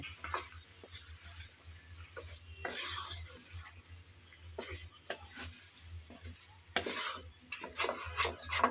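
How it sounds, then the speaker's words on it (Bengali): Chicken wings being stirred with sauce and chili flakes in a pan, giving scraping utensil strokes and clinks of metal over a low, steady background hum, with no talking. "সস আর চিলি ফ্লেক্স দিয়ে আবারও নেড়ে চেড়ে ভালোভাবে মিশিয়ে নিতে হবে"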